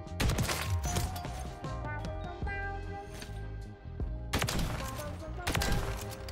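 Bursts of rapid sniper gunfire in Modern Warfare III, sharp cracking shots in bunches, separated by a quieter stretch with a steady background hum.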